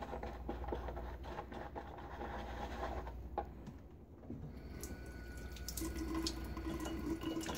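Water trickles and splashes as it is added to Stirling shaving soap to build lather, a steady close running sound with small irregular clicks and drips.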